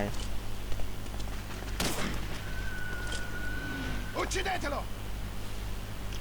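Gunfire in the Medal of Honor Breakthrough video game: a sharp loud shot burst near the start and another cluster of shots later, over steady background game noise, with people talking at times.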